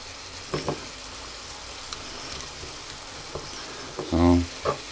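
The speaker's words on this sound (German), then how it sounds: "Also richtig fett anbraten," Minced meat fries in a pan for a cabbage soup, a steady close sizzle with light stirring, while someone speaks briefly over it.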